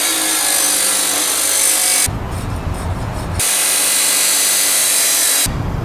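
A power grinder works the edge of a metal piece for a go-kart swing arm, a loud harsh whine running in two long passes separated by a short break in the same close setting.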